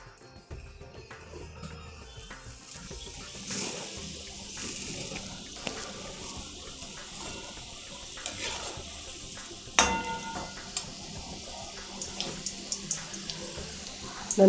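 Modak fry in hot oil with a soft, continuous bubbling sizzle and occasional crackles and clinks, fairly faint and close, with no voices.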